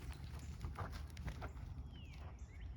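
Horse hooves clip-clopping at a walk on an arena surface during a riding lesson, a steady close four-beat rhythm with no talk over it.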